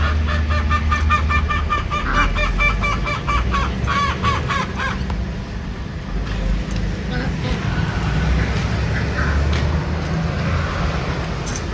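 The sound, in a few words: ducks or geese honking near water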